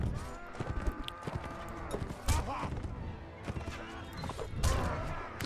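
Hooves clip-clop from a mounted fighter's horse in the medieval combat game Mount and Blade Warband, rhythmic thuds mixed with crashes and clashes of battle, moderately loud throughout.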